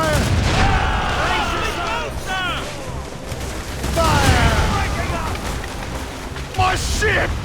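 Ship cannons firing in the naval game Assassin's Creed Rogue, booming volleys rolling out in waves amid battle noise, with shouting voices over them.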